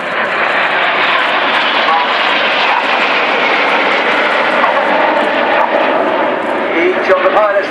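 Steady, loud roar of an aerobatic jet passing overhead at an airshow in Southport, upside down at 2,500 feet and 400 mph, filling the whole clip with broadband engine noise and a voice talking over it.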